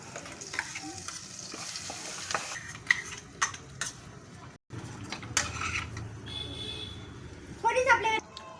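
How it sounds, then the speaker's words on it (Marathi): Ground masala paste with Kolhapuri chutney fried in oil for a cashew curry, stirred in the pan: sizzling with repeated scraping strokes and light metallic clinks, under a speaking voice. "मसाला तेल सुटेपर्यंत आपण फ्राय करूया"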